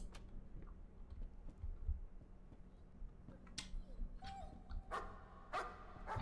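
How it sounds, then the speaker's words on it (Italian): A dog barks in the horror game Layers of Fear, a few sharp, fairly faint barks spaced out over the later seconds against a low, murky ambient hum. "Cane."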